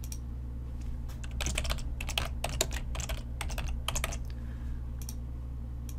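Fingers tapping out a file name on a computer keyboard in short bursts of quick, close keystrokes over a low steady hum, with pauses between the bursts.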